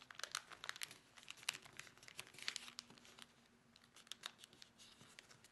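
Origami paper being folded and creased by hand, giving close, soft crinkling and crisp rustles in irregular bursts, with no talk.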